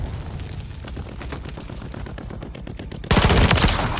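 Rapid automatic gunfire in Call of Duty: Modern Warfare 3, with dense repeated shots throughout that jump into a louder, heavier burst near the end.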